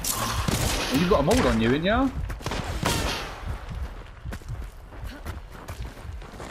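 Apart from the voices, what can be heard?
gunfire in the video game Hunt: Showdown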